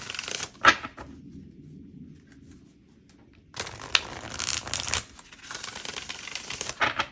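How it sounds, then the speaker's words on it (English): A deck of tarot cards is shuffled by hand in quick, crisp riffling bursts, one short flurry at first and then a longer run after a pause. The cards are close and fairly loud, with no talking. "One more shuffle."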